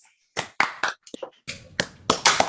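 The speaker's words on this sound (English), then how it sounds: "Let's give him a warm round of applause" Scattered hand claps from a small online audience, a handful of sharp separate slaps in uneven rhythm rather than a full sustained ovation, close and moderately loud.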